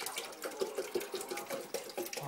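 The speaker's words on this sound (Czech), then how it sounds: "Takže voda se doleje." Water poured into the tank of a De'Longhi coffee machine, a close, bubbly trickle with repeated glugging pulses that runs for a couple of seconds.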